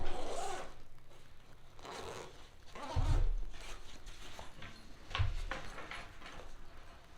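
A Copper Basin takedown firearm backpack zipper is pulled open in a couple of quick rasping strokes, quiet and close, with faint handling noise between them.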